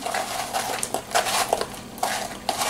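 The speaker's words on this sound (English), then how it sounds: "don't be afraid to get in there with your hands and really mix it up" Seedless grapes tossed by hand in a coating mixture inside a bowl, giving crisp irregular crunching and rattling clicks like a dry coating grinding against the fruit and the bowl, close up with no talking.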